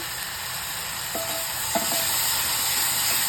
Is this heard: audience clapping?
no